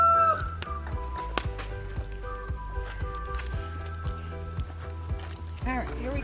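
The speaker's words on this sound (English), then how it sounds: "Funny chickens. Got a crowing contest going." Chickens crowing and clucking in a backyard kitchen garden, heard faintly in the background among soft clanks and rustling, with a louder crow rising near the end.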